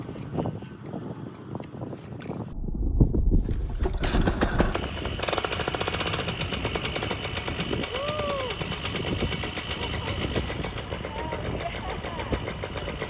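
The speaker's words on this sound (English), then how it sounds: "It was idling a little high, but I let the engine warm up before fine-tuning" A Moster 185 outboard boat motor idles slightly high with a steady, rapid chugging rumble, close and continuous, after a brief start-up with broken noise and a pause.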